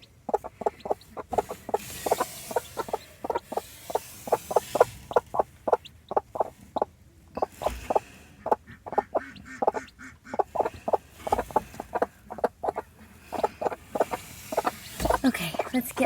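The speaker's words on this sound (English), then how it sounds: "let's get all those chicks back under there" Newly hatched chicks cheeping in a rapid, steady string of high peeps, close and fairly loud, continuing throughout with some background bird calls and a person talking at times.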